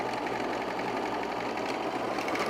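Sewing machine, likely a serger, stitching through three fabric layers at the bottom of men's underwear: a fast, steady mechanical whir with rapid even ticking, close and loud, with no voices.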